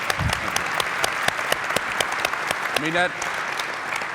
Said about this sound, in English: You can applaud if you want to